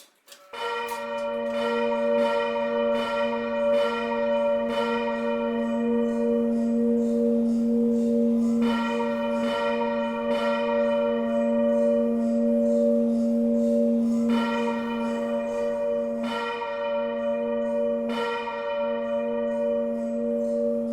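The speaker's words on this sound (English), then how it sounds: "a very nice kind of reminiscent of a steel bell kind of sound" A steel-toned church bell swings in a campanile in a Roblox game, striking in a slow, regular series of clear, loud strokes whose long humming tones overlap and sustain between hits, with no voices.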